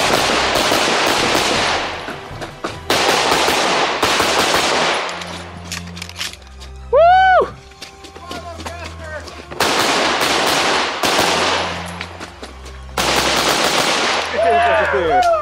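Gunfire at a Halloween costume shooting match: loud, close bursts of rapid shots in several volleys with short pauses between them, and a person shouting range commands between the strings.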